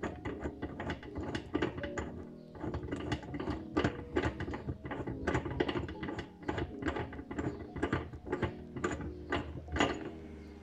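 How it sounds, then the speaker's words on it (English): A loosened bolt being worked free from the parking sensor assembly of an Audi A6 C5, producing rapid close clicking and ratcheting with metallic ticks in a steady irregular stream. "now that the nut is loose, we can actually just remove the bolt."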